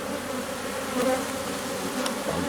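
Honeybees swarm around an open Miniplus mini hive during an inspection, a dense, steady buzz close at hand that swells slightly now and then.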